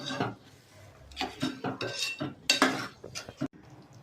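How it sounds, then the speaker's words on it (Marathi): A utensil scrapes and clinks against a pan as spice masala is stirred into butter chicken, in a series of uneven close scraping strokes with short pauses. "आता सोनाचा मसाला व्यवस्थित यामध्ये मिक्स करून घ्यायचा."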